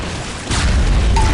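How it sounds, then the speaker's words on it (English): Rocket blasts from a competitive Reflex duel match thump in quick succession, with a loud, booming hit at about half a second followed by a sustained rumbling wash of explosions and game effects. "he's getting bounced around by these rockets"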